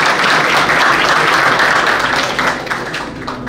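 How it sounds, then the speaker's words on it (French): An audience at a press cocktail event bursts into loud, dense applause that continues for a few seconds and then thins toward the end. "Bon applaudissement pour lui quand même."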